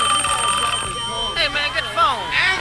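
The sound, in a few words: telephone ringtone ringing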